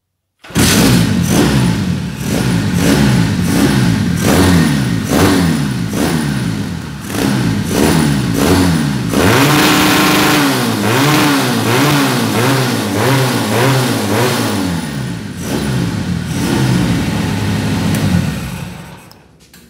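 A Riva 600 motorcycle engine fired up and revved hard in repeated rising and falling bursts, loud and close, with no talk over it, before settling and cutting off near the end.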